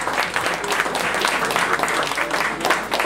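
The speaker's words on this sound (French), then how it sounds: "applaudissez bien fort Nicolas, s'il vous plaît." A festival audience at the 2014 BSA CBG Festival gives a loud, dense round of applause that stays steady throughout the short burst, with no speech over it.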